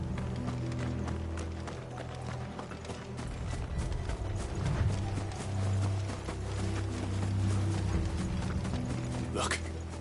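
Horses gallop in the Final Fantasy XVI video game amid clattering, ratcheting mechanical noise, a busy rhythmic drumming of hooves at moderate loudness over a low rumble, with faint voices at times.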